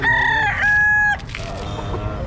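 A rooster crows loudly and close by at a busy pet market in Baliwag, two long strained calls in quick succession, followed by quieter market clatter and faint background voices.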